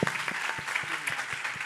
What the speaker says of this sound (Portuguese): Aplaudir, eles merecem.